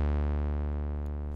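A synthesizer bass note with long release on both filter and amplitude sustains as a deep, smooth tone, its brightness and level slowly fading over a little more than a second.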